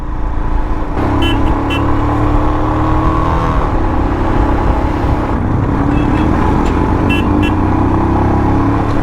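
A Royal Enfield motorcycle rides a Himalayan road toward Kargil behind a log-carrying truck, its engine note loud and steady as it revs and works to overtake, with heavy engine rumble and wind throughout and no talk.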